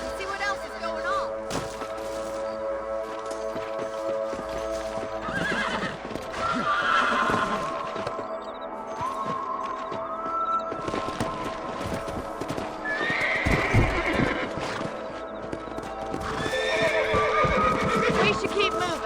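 Hooves clip-clop steadily while horses neigh and whinny several times in the video game Red Dead Redemption, with people talking over the sounds.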